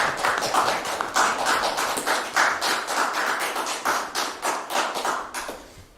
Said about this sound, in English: the first applause I've ever had